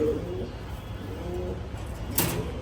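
Low, soft cooing of Laldom and Kaldom pigeons murmurs through a steady background hum, with a brief sharp clatter near the end.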